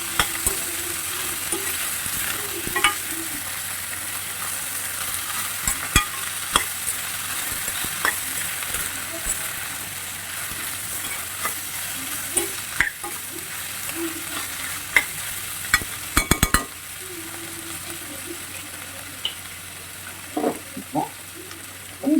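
Ivy gourd (kovakkai) and tomato sizzle steadily in a hot pan for over twenty seconds, with a spatula scraping and clacking now and then as the vegetables are stirred. No one speaks.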